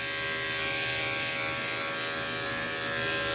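Electric dog grooming clippers fitted with a 10 blade run continuously, a loud, steady close-up buzz with no breaks and no talking.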